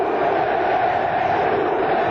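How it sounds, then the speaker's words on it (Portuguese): A football crowd roars at the Maracanã stadium after a penalty goal by Romário for Flamengo, a dense, sustained wash of cheering voices that stays steady and loud throughout. "A torcida balança o Maracanã"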